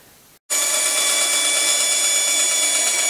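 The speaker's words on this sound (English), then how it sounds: "That can be cut out either on the saber saw, or I think I'll use my bandsaw." A bandsaw starts up after a short quiet moment and runs loud and steady with a bright, high whine, cutting out a hoop cover template for a raised bed.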